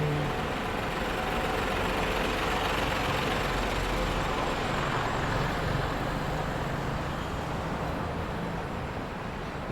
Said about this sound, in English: there comes the cement trucks